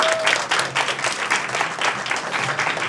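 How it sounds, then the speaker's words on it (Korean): Audience applause rings out at a radio station's award ceremony as a company executive steps forward to present prizes. The clapping is close, full and continuous, rising and dipping slightly in intensity. "박수로 맞아주시고"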